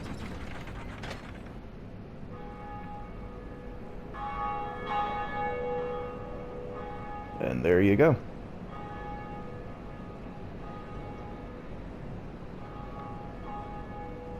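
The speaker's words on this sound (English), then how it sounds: "This is one of the bells of awakening you hear about in the beginning of the game." In the Dark Souls video game, a Bell of Awakening rings after a lever pull, with mechanical ratcheting and gear clatter, then sustained ringing tones that decay and recur, a loud burst mid-way, and someone speaking briefly over it.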